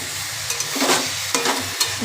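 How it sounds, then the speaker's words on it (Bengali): Green chilli paste is stirred into Malabar spinach frying in a pan, a loud close sizzle broken by several scraping stirs of a spatula against the metal. "এবার নাড়াচাড়া করে নেব ভালো করে।"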